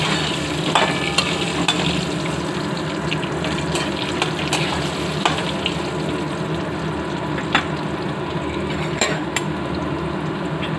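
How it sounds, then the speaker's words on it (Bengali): Potatoes fry until browned in a pan of oil, a steady close sizzle with scattered pops and the scrape of stirring running throughout, with no voices. "ভালো করে লাল করে ভেজে নেব। আলুগুলোকে লাল করে ভেজে নিয়েছি।"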